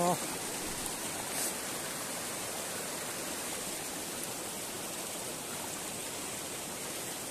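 Mountain stream flowing over rocks during a crossing, a steady broadband rushing wash heard close and continuous, fairly soft, with no clear talking.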